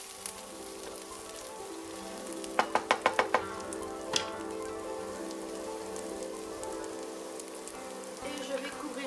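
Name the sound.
stirring red lentils and chili in a sizzling pot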